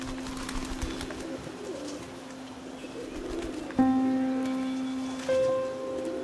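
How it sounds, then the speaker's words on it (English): Pigeons coo softly over a quiet outdoor background during a morning flight, with a brief clear call and a later shorter one standing out near the end. "Right now we are having all these birds. We're just taking a small flight, a little exercise every morning."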